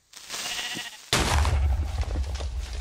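In Minecraft, a sheep lets out a bleat after a short silence, followed by a louder burst with a low thump, all fairly close and without talking.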